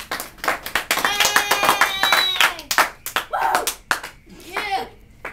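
A classroom audience claps for two people playing generals at a school event, with a loose, uneven patter of hands and scattered voices and cheers mixed in, fairly close and moderately loud.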